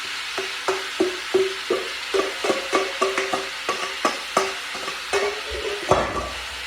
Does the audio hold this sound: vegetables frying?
yes